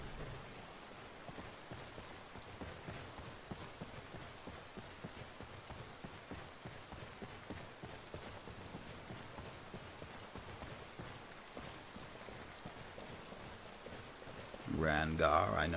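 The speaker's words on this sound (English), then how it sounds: "Can you make it stop raining?" Steady soft rain in the video game Skyrim Special Edition patters continuously at a low level, with a louder burst of sound near the end.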